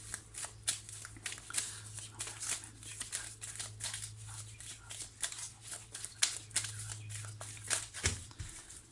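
A deck of tarot cards is shuffled by hand in quick repeated riffles and soft slaps, close and fairly quiet, over a faint low hum.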